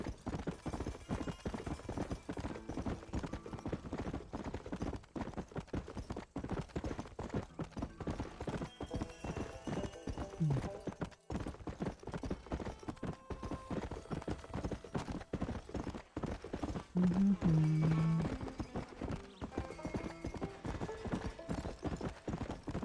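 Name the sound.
horse hooves while riding, Red Dead Redemption video game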